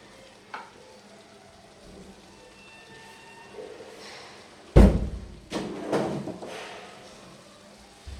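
Vegetables frying and being stirred in a pan, with a soft continuous sizzle broken by a few louder scraping thuds of the utensil against the pan.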